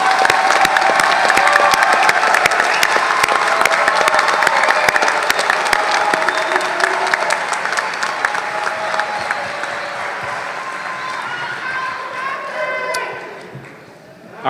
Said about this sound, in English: Let's give a round of applause for all of our graduates.